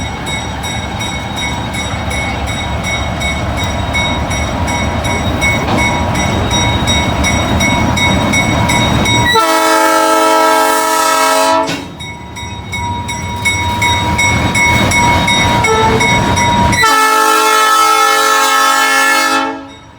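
A loud ex-Navy GE center-cab locomotive rumbles past nearby on rail made in 1916, wheels grinding, while its horn blares in two long blasts.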